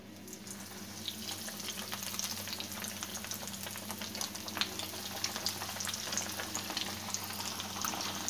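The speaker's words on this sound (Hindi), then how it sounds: "अब हम इसे एक एक उठा के इसमें डालेंगे और इसे फ्राई डीप फ्राई करेंगे" Bread chicken samosas deep fry in hot oil in a frying pan with a steady, soft bubbling sizzle, fairly quiet and even throughout with no voices.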